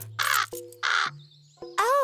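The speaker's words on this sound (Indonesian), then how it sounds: "Dia burung gagak." A cartoon crow caws three times in loud, harsh bursts, each separated by a short pause, with close, clean sound and a low electronic tone running underneath.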